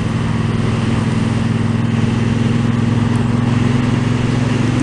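A Triumph Bobber motorcycle engine thrums steadily at cruising speed, with a constant low, throbbing drone and wind rush heard up close from the rider's position, with no pauses.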